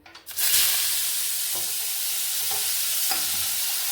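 Finely chopped potatoes hit hot oil in a pan, a sudden loud sizzle rising into steady frying hiss with occasional stirring clicks, close and continuous.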